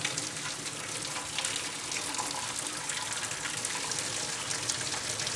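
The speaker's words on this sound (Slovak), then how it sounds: "vodu zlejeme" Hot water poured off boiled sausages (párky) from a pot into a sink, a continuous splashing, hissing gush of water lasting several seconds, close and even, with no talk.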